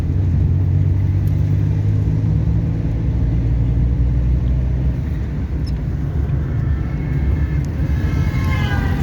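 A car engine drones near and loud, rumbling steadily as it accelerates while shifting to third gear, with a faint rising whine near the end.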